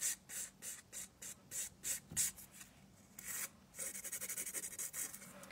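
A nail file rubs back and forth over a CND Plexigel nail enhancement in close, rhythmic rasping strokes, slower and spaced at first, then quicker and more even.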